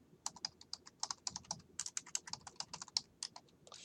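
Rapid, uneven keystrokes on a computer keyboard while R commands are typed, close and crisp, with short pauses between bursts and no talking.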